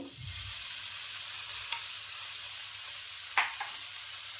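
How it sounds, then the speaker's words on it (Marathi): Chopped tomatoes and coriander stems land in a pan of fried onions for Maharashtrian dhaba-style shev bhaji, giving a steady close sizzle with a couple of brief stirring scrapes and no talking. "कांदा भाजून झाला आहे बघा मस्त असा. आता मी टोमॅटो पण टाकते त्याच्यामध्ये"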